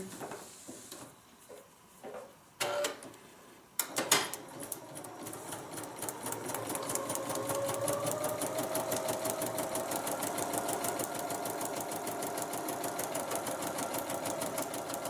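Sewing machine stitching fabric for a small bag: after a few handling knocks and rustles, a close, rapid, even rattle of the needle starts and runs continuously to the end.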